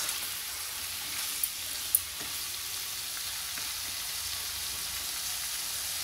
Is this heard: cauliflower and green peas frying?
yes